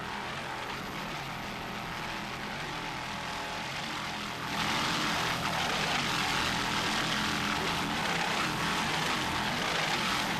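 Loud, continuous engine roar from fast-moving racing powerboats in a 1995 race, swelling stronger midway and holding at a heavy drone.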